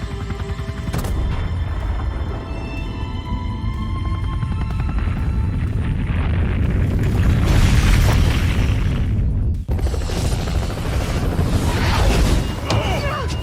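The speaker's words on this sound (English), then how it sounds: "Best and most realistic explosions in video game industry." Video game explosions rumble in heavy, overlapping booms with crashing debris, loud and sustained, swelling toward the middle and briefly cutting out before more blasts.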